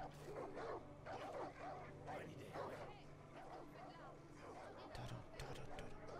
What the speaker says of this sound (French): Avec les chiens là.